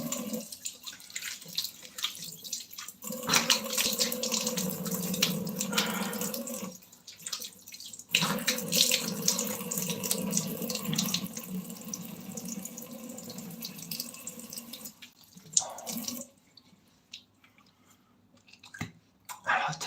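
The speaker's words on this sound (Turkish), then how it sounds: "Yüzümü tekrar bir durulayım." Tap water runs into a sink as someone rinses their face after a shave, a steady close splashing stream broken by short pauses and hand-scooping splashes.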